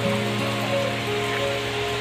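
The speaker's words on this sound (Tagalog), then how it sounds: "Ayun, mga kapunta, nabutan na ng ulan." Monsoon rain in Mariveles, Bataan falls steadily and evenly in a continuous close wash of patter, with a faint tonal hum running beneath it.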